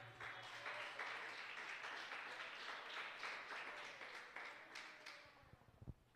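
A church congregation claps and applauds steadily through a worship service, a dense even patter of many hands with a low hum beneath, fading out near the end with a few final louder claps.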